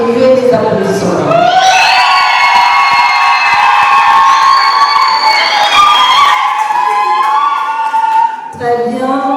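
Guests at a civil wedding ceremony break into loud cheering, whooping and applause, a dense crowd roar with high shouts and ululating voices rising and falling.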